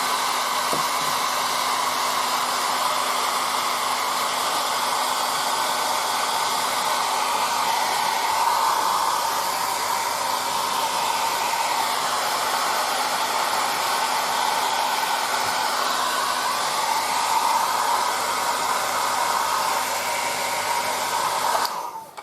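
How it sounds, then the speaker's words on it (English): A hair dryer blows steadily for a long stretch, a constant close-up whooshing roar with no talking. "Just give a little of the air dryer on the top"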